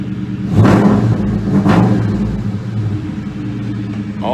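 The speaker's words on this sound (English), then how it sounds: "Car sounds good." Ford Mustang Bullitt engine rumbling at idle, then revving twice in quick succession before easing back to a steady low, close-up rumble, with no voices.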